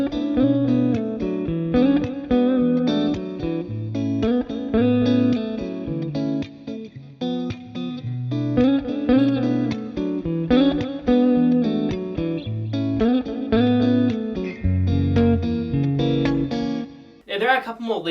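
Rhythm and lead electric guitar parts of a song played together, a steady repeating riff with chugging low chords and bright melodic lead lines, close and loud with effects and continuous for the whole stretch.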